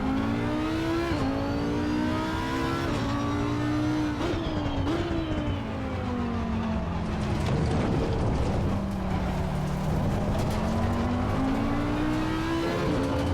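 A race car lapping in Assetto Corsa Competizione, its engine droning steadily and loud throughout, pitch climbing through each gear and dropping on shifts and braking, with no talk over it.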